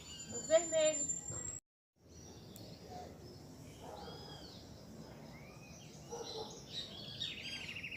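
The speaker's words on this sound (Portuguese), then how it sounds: "olha, dos pássaros. Olha, que coisa linda." Birds chirp and call faintly in an open natural setting, scattered short notes repeating after a moment of nearby talking that stops briefly.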